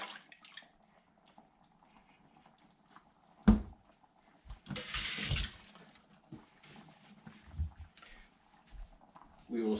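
Milk is poured from a cup into a mixing bowl while preparing meatloaf, giving a short, splashy liquid gush in the middle of the clip, with a voice talking before and after.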